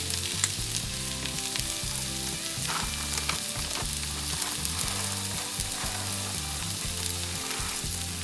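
Fennel seeds and spices sauté in hot oil in a pan for a Kerala thattukada-style vegetable curry, a steady soft sizzle running throughout beneath rhythmic background music.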